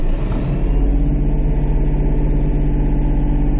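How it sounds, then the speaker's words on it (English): KIOTI 3510SE tractor engine running close by at a constant speed in winter snow, a loud, steady low throb that stays even for the whole stretch. "that's why you will hear this motor continuously running"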